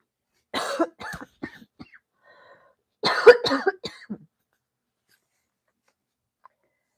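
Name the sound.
coughing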